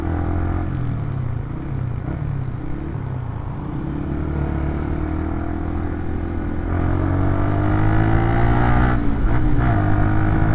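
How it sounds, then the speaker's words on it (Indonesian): A Yamaha Vixion motorcycle engine idles steadily nearby, a low, even mechanical hum with a slight rise in level toward the end. "Suara mesinnya juga masih terawat ini."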